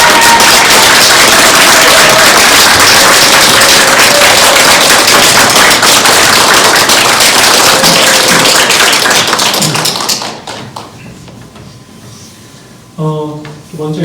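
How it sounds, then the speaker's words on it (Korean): A church congregation claps loudly to welcome a preacher to the front, steady dense applause that fades out after about ten seconds, followed by a short burst of taps and a brief voice. "우리 크게 박수로 환영하도록 하겠습니다"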